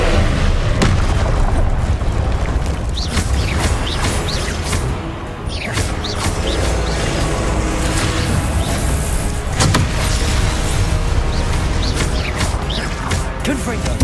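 Repeated Confringo fire-blast spells bursting in Hogwarts Legacy, a steady run of loud booming impacts and crackling hits layered over continuous game noise, with a voice calling out spell names between blasts.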